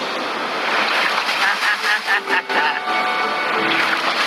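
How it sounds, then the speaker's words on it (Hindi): Big ocean waves crash against slippery rocks near an island, a loud, continuous roar of surf and spray mixed with wind, swelling and dipping slightly throughout. "जरा देखो तो दोनों तरफ पानी कैसे टकरा रहा है"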